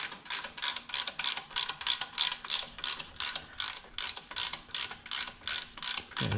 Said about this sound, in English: put on our ratchet here